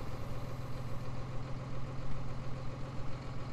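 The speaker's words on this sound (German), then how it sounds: "Ja, Motor starten." A tractor engine in the Farming Simulator 19 game idles with a steady, deep rumbling drone that holds at an even level throughout, with no one talking.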